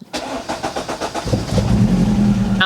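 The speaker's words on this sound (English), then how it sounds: "Can't beat an echo of 2 tractors on full whack going." Two tractors at full throttle, their engines roaring loud and close with a strong echo, rising into a sustained heavy low drone after a brief rhythmic chugging start.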